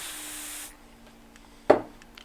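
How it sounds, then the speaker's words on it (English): A can of freeze spray hisses in a short burst onto an iPhone circuit board, fading out, followed by quiet and one sharp near knock. "let's just see with freeze spray if anything heats up"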